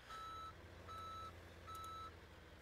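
A plow truck in the video game Farming Simulator 17 sounds its reversing alarm, three evenly spaced steady beeps over a low idling engine rumble.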